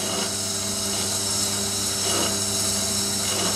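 Tormek T7 sharpener with a 1000 grit wheel grinding a Buck folding knife blade, a steady close whirring hum with constant level and faint grinding texture throughout, no talk.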